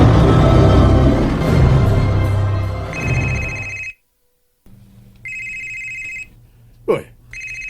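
A cellphone rings in a series of repeated electronic tone bursts broken by short gaps, first under loud clattering noise and then more clearly in a quieter room, with a brief voice sound near the end.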